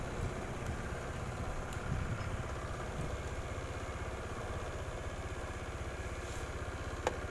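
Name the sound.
Honda Vario scooter engine running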